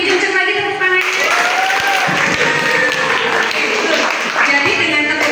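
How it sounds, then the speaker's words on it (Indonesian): A seminar audience claps louder on request, sustained crowd applause filling the room at a steady level, while a speaker's voice talks over the clapping throughout. "Boleh sekali lagi lebih kencang lagi tepuk tangannya."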